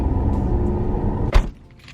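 A car engine hums steadily at low pitch while driving, filling the interior, with a short sharp knock or bump near the end before the rumble quiets.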